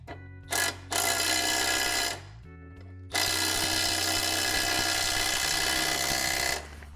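A Milwaukee M12 cordless power tool runs in loud bursts, fastening a bolt on the steering and front suspension of a Ford Escort. Two short pulses open the clip, then a pause follows, then one sustained whir runs for several seconds before stopping.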